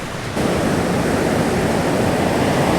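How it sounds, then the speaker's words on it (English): Broadband surf on An Bang Beach in Hoi An, Vietnam, a steady rushing wash of waves that swells louder after a brief quieter start and keeps rolling continuously with no voices. "This is An Bang Beach."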